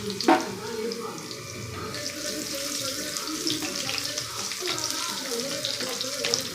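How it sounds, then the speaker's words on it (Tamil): Crushed garlic and spices frying in oil for a kurma in a home kitchen make a low, steady sizzle with brief clinks near the start and no speech. "நல்லா பொரியுது"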